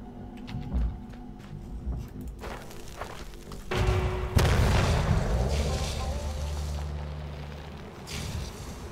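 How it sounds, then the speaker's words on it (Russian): Dynamite blowing up cracked rocks in Weird West: a loud, deep blast with a long rumbling roar and crackling debris that slowly fades, preceded by softer game sounds. "По-моему, я взорвал эти камни"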